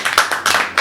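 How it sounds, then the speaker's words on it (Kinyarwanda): A few sharp, close hand claps in quick irregular succession from an audience in a Rwandan choir setting, brief and loud. "bakumera amashyi kabisa"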